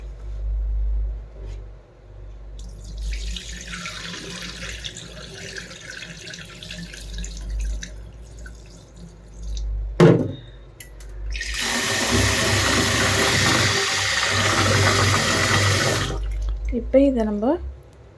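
Mung beans being rinsed under running tap water: a gushing stream that starts and stops, with a loud, sustained flow toward the end. Water splashes and sloshes nearby, and a voice talks over parts of it.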